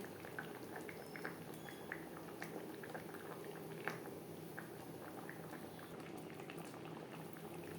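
Egg omelette curry gravy with tomato bubbles steadily in a pan, a continuous close simmer of small pops and gentle burbling at an even, moderate level with no talking.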